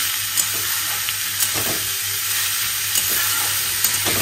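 Bottle gourd is stir-fried in a pan, giving a loud, continuous sizzle broken by soft scraping stirs, with no voices.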